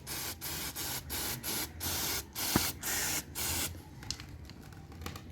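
Anti-rust lubricant sprayed onto the front sprocket of a 2020 Bajaj Boxer X150 motorcycle: about eight short, loud hissing bursts in a steady rhythm, close up, then quieter fiddling sounds with no talk.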